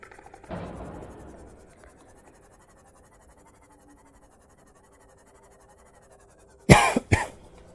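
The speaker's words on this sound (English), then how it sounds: "I turned my head to not cough in the mic" Two quick, sharp coughs close by near the end, turned away from a headset microphone, after a faint earlier rustle and mostly quiet background.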